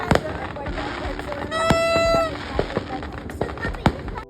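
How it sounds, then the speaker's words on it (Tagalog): New Year's midnight fireworks crack and pop at varying distances, sharp bursts scattered throughout, with a whistling rocket rising in the middle and a steady hum of crowd noise and distant voices beneath. "binivideo ko yung ibang fireworks kasi sobrang ganda nila sa mata guys"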